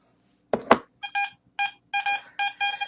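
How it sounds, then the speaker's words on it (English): After two dull knocks, a DeepTech Vista X metal detector answers with repeated high-pitched tones, arriving in quick pairs of beeps, clear and close with silence between them. "It sounds a high tone, but if you listen to hunt enough, it just double beeps"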